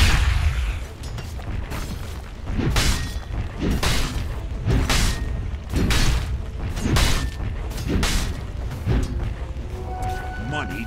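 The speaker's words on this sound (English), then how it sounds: "Dire's top tower is under attack." A Dota 2 battle at the Dire team's top tower, with a steady run of heavy booms and thudding impacts, roughly one every second, close and loud under a game announcer's voice.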